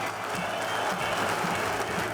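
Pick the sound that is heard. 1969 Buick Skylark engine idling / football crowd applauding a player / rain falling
football crowd applauding a player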